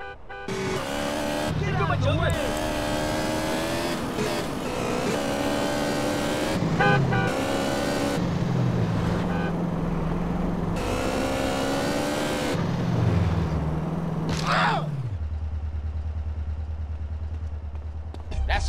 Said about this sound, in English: we're en route in the armored truck